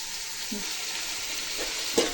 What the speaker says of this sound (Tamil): வெங்காயம், குடமிளகா எல்லாம் போட்டிருக்கேன். நல்லா வதங்கட்டும்